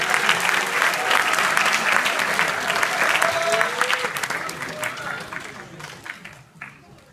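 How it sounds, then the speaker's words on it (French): A cinema audience at the Toute la mémoire du monde film festival applauds the translator for William Friedkin's Vertigo presentation: dense, sustained clapping from a full house that thins and fades toward the end. "On l'applaudit parce qu'il est très bon."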